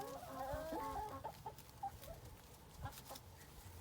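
Chickens clucking around a homestead coop in a fenced-in area, several birds calling with bright, irregular clucks and short squawks close by, bunched in the first half and then trailing off into sparser calls over outdoor ambience.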